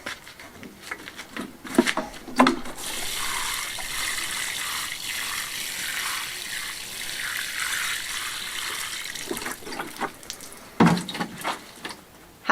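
Water poured out in a steady trickling stream that swells to a gushing flow, with a few sharp knocks and splashes at the start and end, close by and loud.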